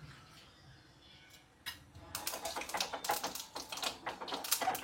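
Mustard seeds spluttering in hot oil while tempering cucumber pachadi, a dense run of sharp crackling pops that starts quietly and grows loud and steady after a couple of seconds, close up with no talk.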